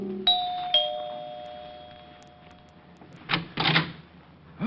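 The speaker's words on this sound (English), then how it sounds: "and rang the bell to Helen's apartment." An apartment doorbell rings as a radio drama sound effect: two clear chime tones close together, then a long ringing decay, followed by a few soft thumps in a quiet room.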